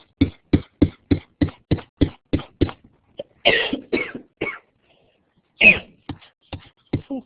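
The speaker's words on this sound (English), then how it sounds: "So I still have cough." A run of about ten sharp, evenly spaced coughs, loud and close, followed by a few more scattered coughs and throat noises.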